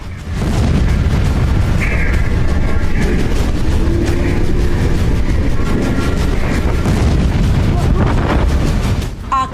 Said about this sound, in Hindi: दुनिया दहलाने वाला हुआ बड़ा धमाका